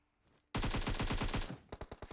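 Automatic gunfire in a video game: a long rapid burst of close, loud shots followed by a short run of separate single shots, with no voices.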